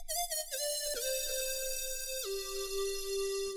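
A clean, bright "cheap lead" synthesizer patch for Asian rock plays a short melodic phrase with sustained notes and a few quick pitch changes, alone and clear.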